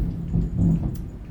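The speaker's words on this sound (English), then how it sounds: "We're having a thunderstorm." Thunder rumbles low and steady during a thunderstorm, with rain hissing faintly on top, heard from indoors and without talk.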